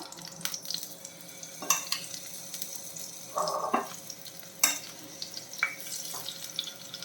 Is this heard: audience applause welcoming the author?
no